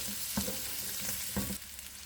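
Onion, green bell pepper and garlic cloves sauté in a pan, making a soft continuous sizzle with two brief stirring knocks, fairly quiet and with no voices.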